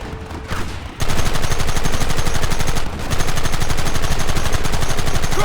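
Heavy gunfire in Red Dead Redemption, sustained rapid-fire bursts roaring loud and close after a brief quieter opening, with a short dip near the three-second mark before resuming.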